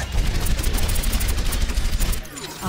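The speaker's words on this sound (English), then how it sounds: "Now, activate your tactical visor and open fire." Soldier 76 in the Overwatch video game opens fire with his tactical visor active, a dense, rapid burst of loud automatic gunfire that runs continuously before cutting off near the end.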